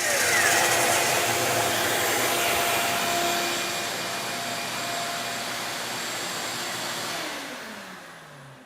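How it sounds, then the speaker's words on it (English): A shop vacuum connected to a miter saw station roars steadily and loudly on its own after the saw is switched off, running about five seconds to clear the dust airway, then winds down as it shuts off near the end. "runs the vacuum for 5 seconds after the saw is shut off to clear the airway"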